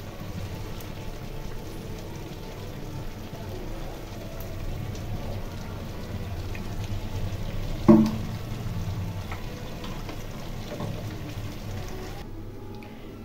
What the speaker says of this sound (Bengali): তেলের মধ্যে জিরে ফোড়ন দেব আর কাঁচা লঙ্কা ফোড়ন দেব